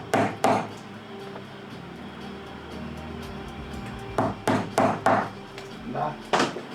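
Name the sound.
punching holes with a multi-prong hole punch tool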